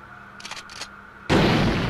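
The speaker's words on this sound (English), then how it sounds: "Yeah, I got the shotgun." A single loud shotgun blast in Worms Armageddon follows a brief quiet pause and a couple of short cartoonish sounds, with a long roaring burst trailing away.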